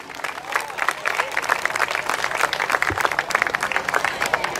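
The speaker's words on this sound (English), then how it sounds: "Big round of applause for the parents." An audience at a youth opening ceremony gives the parents a round of applause, a dense, steady patter of many hands clapping at moderate loudness for several seconds.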